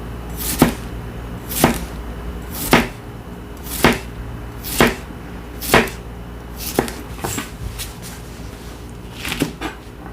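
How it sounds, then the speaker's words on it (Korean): A knife slices a cucumber on a cutting board in thick, wide diagonal pieces, about a dozen sharp, close chopping knocks arriving in a steady rhythm, with no one speaking. "오이는 약간 두껍게 썰어줘도 괜찮아요"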